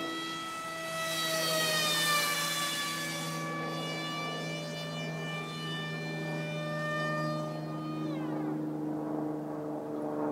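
An RC Powers F-22 model jet motor whines overhead at a park, a loud sustained tonal drone with rising and falling pitch that sweeps downward near the end as the plane passes.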